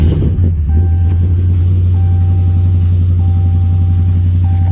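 A Whipple-supercharged Ram truck engine idles loud and close, a heavy, steady low rumble with a lumpy pulsing beat and faint periodic electronic chimes over it.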